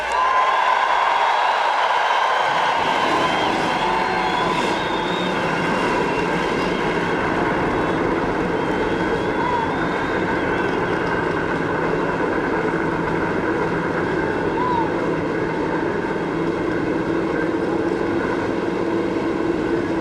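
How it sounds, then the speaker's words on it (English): Forty-three NASCAR stock car engines fire up at the Indianapolis Motor Speedway for the 2005 Allstate 400 at the Brickyard, swelling within seconds into a dense, loud, unbroken roar that fills the whole stretch. "Even the roar of 43 race cars cannot drown out the echoes of excellence"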